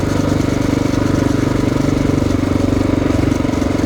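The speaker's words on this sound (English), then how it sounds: "Little kid with a dirt bike." A 1995 Honda XR600R dirt bike engine runs steadily at close range, a loud continuous thumping drone with no voices over it.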